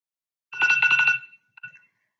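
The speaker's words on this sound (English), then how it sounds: "when you hear the buzzer go off, that means stop" A kitchen-style countdown timer for a classroom lesson goes off once, a short loud electronic ringing burst lasting under a second, then a brief faint chirp, with silence around it.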